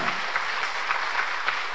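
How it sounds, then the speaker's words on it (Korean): Dense applause from a church congregation after a worship song, steady and fairly loud throughout. "다시 한번 박수로"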